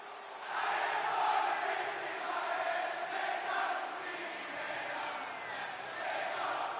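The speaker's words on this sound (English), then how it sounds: "They got the crowd singing it." Virtual arena crowd in WWE 2K26 singing and chanting along to a wrestler's entrance, a dense, steady roar that swells early and stays loud throughout.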